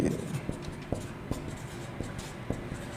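Chalk or marker tapping and scratching on a board while a maths teacher writes an algebra formula for the cube of a plus b, several sharp taps at an irregular pace over a steady background.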